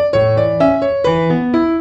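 Piano plays a short song phrase, a few melody notes over low chords in a steady rhythm, close and clear with no talking.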